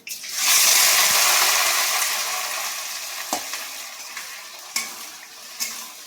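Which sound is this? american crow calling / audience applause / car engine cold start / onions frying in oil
onions frying in oil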